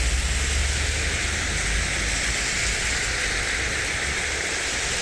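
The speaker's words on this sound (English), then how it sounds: "It's not helping this fucking rain on here." Steady, dense rain hiss at a roundabout with truck traffic fills the whole stretch, unbroken and fairly loud, with a low rumble underneath.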